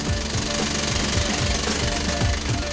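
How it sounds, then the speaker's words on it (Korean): Continuous loud hammering roar of pneumatic rock drills boring blast holes for explosives in a dusty vertical mine shaft, a dense steady rattle with no breaks. "천공 작업은 늘 소음을 동반하기에"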